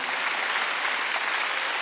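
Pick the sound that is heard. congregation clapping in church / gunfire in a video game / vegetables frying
congregation clapping in church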